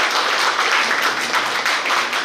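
An audience at a book release event claps steadily, dense applause filling the room and holding loud and even throughout.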